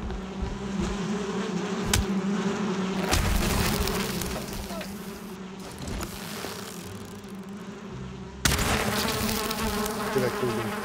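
Buzzing bees in the Valheim video game, a steady insect drone that carries through the whole stretch, with some brief louder bursts of game noise over it.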